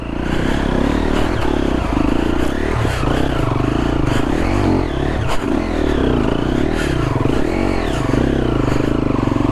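A Triumph TF250E dirt bike ridden through Australian bush, its engine droning loud and steady with changing revs and lugging pulls, plus rattles and scrapes from rough terrain throughout.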